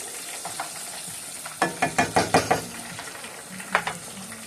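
Battered fish frying in hot oil, a steady sizzle under a quick run of six sharp, evenly spaced clinks and scrapes from a utensil, then one more clink near the end.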